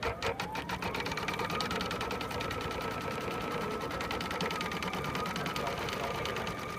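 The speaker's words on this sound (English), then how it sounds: "we'll start the machine up. It'll tack down the applique fabric for us." An embroidery-style sewing machine tacking down applique fabric on a minky quilt runs continuously at a fast, even stitching rhythm, loud and close, with a steady mechanical whir and no talking.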